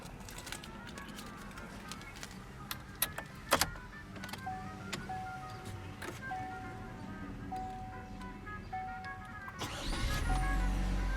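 A 2016 Chevrolet Cruze's 1.4 liter turbocharged four-cylinder engine runs quietly inside the cabin, with a repeating electronic chime, scattered clicks, and a swelling rumble near the end.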